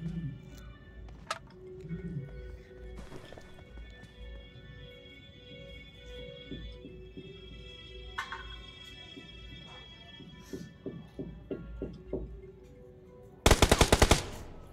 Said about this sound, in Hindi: इधर किधर से फायरिंग हुआ यार